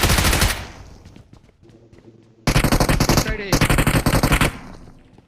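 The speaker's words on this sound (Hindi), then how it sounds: "रिलोडिंग आ गई ना, अब मार गोलियां।" Loud, close bursts of rapid machine gun fire in a video game, with one burst at the start and a longer sustained volley later, and a quieter gap between them.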